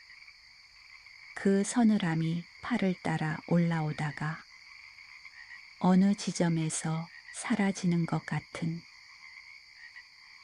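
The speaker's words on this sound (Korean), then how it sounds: "개구리 울음소리는 계속됐다." Frogs croak in a steady, continuous chorus on a night after rain, sustained beneath a calm voice talking over most of the stretch.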